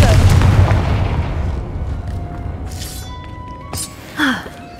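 A Confringo spell explosion in the Hogwarts Legacy video game opens with a heavy booming blast, then a rumbling decay with faint chimes and magical shimmer, followed by a brief whooshing swell near the end.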